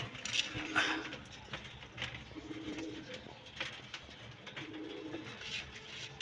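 Pigeons coo repeatedly in low, throaty phrases close by while grain of wheat and broken corn is scattered for them, with faint scuffing and a soft murmur in the background.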